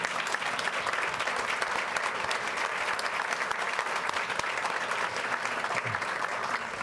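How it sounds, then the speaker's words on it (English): A school board meeting audience breaks into sustained applause, a steady wash of many hands clapping at even loudness for several seconds without letup. "I think it's worth another round of applause."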